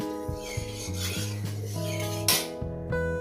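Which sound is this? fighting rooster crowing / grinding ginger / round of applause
grinding ginger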